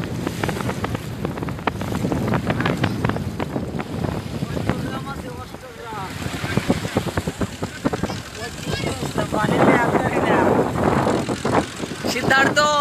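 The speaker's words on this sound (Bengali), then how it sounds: "জলের মাঝে বাইক চালাতে অনেক ভালোই লাগে" A water motorbike crosses choppy waves at sea with a constant engine drone. Strong wind buffets the microphone and water splashes around it, while people talk over the noise.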